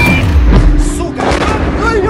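A deep, heavy boom from an explosion during shelling in Ukraine rolls out amid continuous background rumble, with people talking over it.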